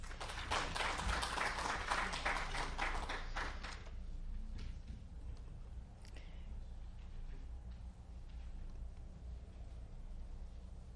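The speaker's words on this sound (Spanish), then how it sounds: "La recibimos con un aplauso" Audience applause welcoming a speaker at a conference on the Tecnológico de Monterrey and the European Union agenda: a burst of dense clapping for about four seconds that quickly thins to a few scattered claps.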